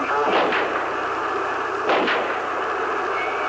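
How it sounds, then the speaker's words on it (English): Gunshots from the JFK assassination recording in Dallas, heard as a couple of sharp, distant reports about a second and a half apart over a steady noisy background hiss. "Robert Groden synchronized the shooting sounds with the Zapruder film."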